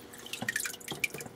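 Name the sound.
water dripping through valve of stream table pump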